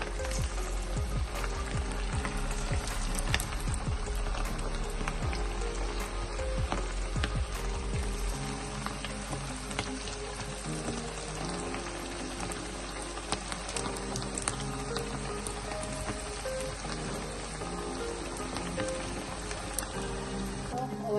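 Potato snacks deep-frying in hot oil in a pan, giving a steady dense sizzle and bubbling hiss that runs throughout, close and fairly loud, with a voice talking over it at times.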